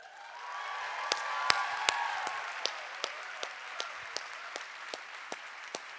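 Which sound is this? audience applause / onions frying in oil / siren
audience applause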